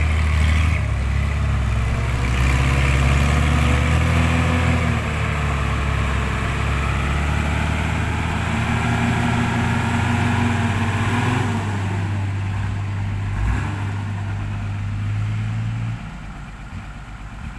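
A ten-wheel dump truck's diesel engine idles loud and close with a deep steady drone while it tips out soil, its pitch shifting slightly mid-way before the engine note drops off near the end.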